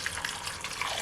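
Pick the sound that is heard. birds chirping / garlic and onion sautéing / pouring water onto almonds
pouring water onto almonds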